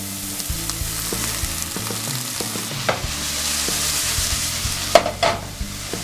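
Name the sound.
onions sizzling while frying in a pan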